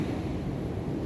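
Strong sea waves crash at San Juan, La Union, where the current is strong, making a steady, loud, low rumbling surge that fills the whole moment with no voices.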